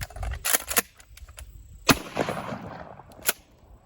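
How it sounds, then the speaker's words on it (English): Sharp, loud gunshot cracks from a Mossberg 590 pump shotgun ring out close by, with several irregular blasts and rattling handling noise between them. "This is the Mossberg 590, and this is my shotgun."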